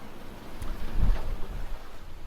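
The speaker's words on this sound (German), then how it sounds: "Der Wind dreht gerade noch mal kräftig auf." Strong wind roaring over a sailing yacht off Mallorca as gusts build toward 27 knots, a steady broadband rush with a louder surge midway and low buffeting rumble, no voices.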